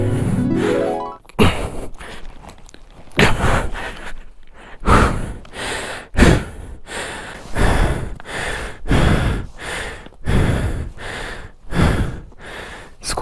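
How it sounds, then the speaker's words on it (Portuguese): Heavy, loud panting close to the microphone while on a muddy road in the Serra da Mantiqueira: rapid, rhythmic gasping breaths repeating steadily with no talk over them. "Desculpa aí a respiração ofegante."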